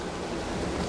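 Water in the Dishonored game, a dense, close wash of rushing, surf-like noise holding steady for a brief moment.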